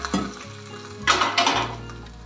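Hot mustard-seed tempering with curry leaves sizzles and crackles as it is poured into coconut chutney, a short close burst of frying hiss over faint kitchen clatter.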